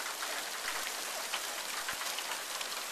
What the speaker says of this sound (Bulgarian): Заваля градушката най-после.